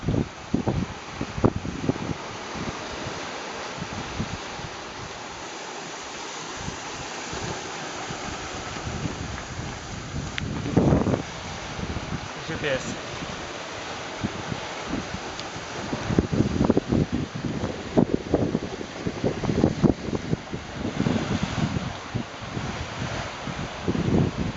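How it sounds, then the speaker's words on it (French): Strong wind buffeting the microphone aboard the sailboat Amuitz at sea between Noumea and Langkawi, a continuous roaring rush with repeated louder gusts and rumbling bursts, close and dominant throughout with no voices. "Faut parler fort parce qu'il y a du vent."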